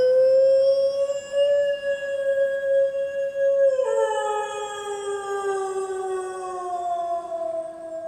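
A wolf character in the Beastars anime howls at the moon beside his mother's grave: one long, steady, tonal howl that drops to a lower pitch midway and holds there to the end, loud and alone.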